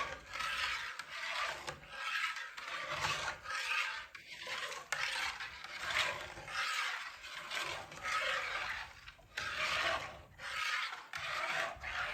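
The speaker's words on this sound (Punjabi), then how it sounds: "ਇਸੇ ਤਰ੍ਹਾਂ ਹਿਲਾਉਂਦੇ ਹੋਏ ਆਪਾਂ ਦੁੱਧ ਨੂੰ ਉਬਾਲ ਦਿਵਾਉਂਦੇ ਹੋਏ ਚੰਗੀ ਤਰ੍ਹਾਂ ਗਾੜਾ ਕਰ ਲਵਾਂਗੇ" A spoon scrapes steadily around the bottom of a pot of thickening milk in repeated rubbing strokes, close by, with no voices.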